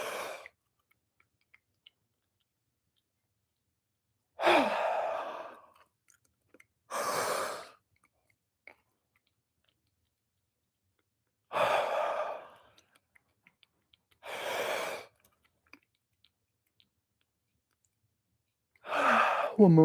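Several slow, breathy yawns during a relaxation and fascial stress-reset session, each a soft airy swell about a second long, separated by long quiet gaps, close and moderately quiet.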